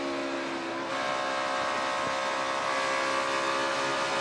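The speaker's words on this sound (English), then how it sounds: "You can hear just how much throttle Kevin Harvick's able to run there through 3 and 4" NASCAR stock car engine at full throttle through turns 3 and 4 at Texas, a steady loud roar with a rising pitch that holds for several seconds without speech.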